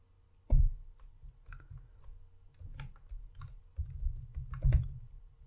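Fingers tap irregular bursts of keys on a computer keyboard while writing Power Query M code, a few quick clicks at a time separated by short pauses, close and fairly soft, with no talking.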